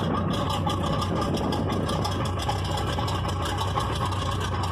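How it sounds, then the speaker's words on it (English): A squarebody pickup truck idling steadily through homemade open-chamber mufflers on 2.5-inch pipes with a crossover, dumping before the rear axle; a continuous, loud, throaty low rumble with no talk. "his exhaust is just some mufflers I made, designed, and built myself. It's kind of an open chamber muffler."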